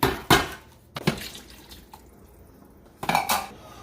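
Water added to a large pot holding over seven pounds of oxtail for a Cuban stew, heard as a few sharp metallic clanks and splashes separated by quiet gaps.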